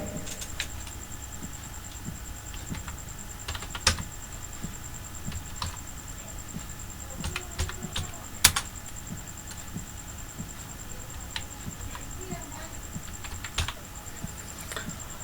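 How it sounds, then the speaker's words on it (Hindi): Clicky keystrokes on a computer keyboard as text is typed into a Word document, an uneven run of light taps with a few sharper presses, close and quiet, with no speech. "इसको हम टाइप करते हैं"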